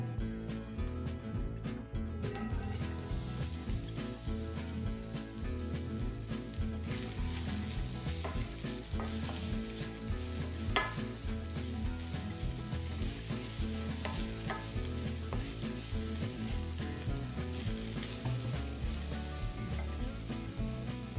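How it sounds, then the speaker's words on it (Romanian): Sliced onion frying in olive oil in a hot pan gives a steady, continuous sizzle with crackles, fairly close and even in level, with no voices throughout. "Într-o tigaie încinsă adăugăm o lingură de ulei de măsline și punem ceapa la călit."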